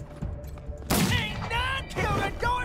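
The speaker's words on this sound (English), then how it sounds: "Shoot over at this guy." Gunfire erupts in the post-apocalyptic tactical game Wasteland 3 as a sudden loud burst, followed by in-game voices and further combat sounds.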